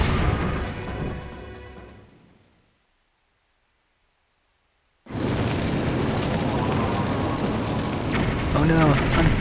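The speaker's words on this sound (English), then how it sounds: "Watch the fireworks." Fireworks explode in the Zelda: Twilight Princess video game, a loud hissing crackle that fades into silence, then a sudden dense rumbling burst with sparkling crackles that continues to the end, without speech.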